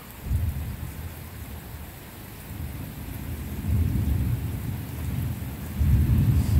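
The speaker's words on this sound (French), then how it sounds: "Les pluies qui s'intensifient aussi." Heavy rain during a thunderstorm grows stronger, a steady low roar of downpour swelling in surges with rumbling thunder, loud and continuous with no voices.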